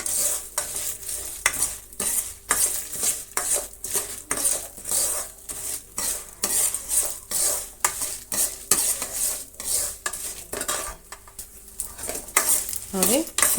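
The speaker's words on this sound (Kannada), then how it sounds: "ಈಗ ಹದಿನೆಂಟು ಮೆಣಸಿನ್ಕಾಯನ್ನು ನಾವು ಹುರಿಯೋಣ" Dry red chillies being stirred and roasted in a pan for a brinjal dish, with a steady rhythmic scrape of a spoon against the pan over a soft sizzle, close and continuous.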